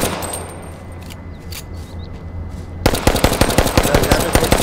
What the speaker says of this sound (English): Hey, this gun, I'm shooting it.